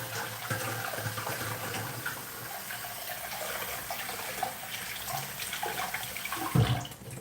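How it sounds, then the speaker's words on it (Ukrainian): Tap water running into a sink while a cucumber is washed, a steady close splashing stream with a brief louder thump near the end. "огірок помию"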